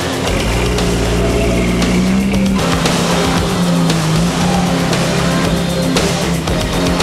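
A Jeep Cherokee drives an off-road trail, its engine a loud, steady rumble with a droning tone that shifts pitch slightly as it moves, plus rough broadband noise from the ground.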